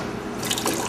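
Water from a kitchen sink tap splashes and drips while being scooped up by hand, a close, wet patter lasting under a second.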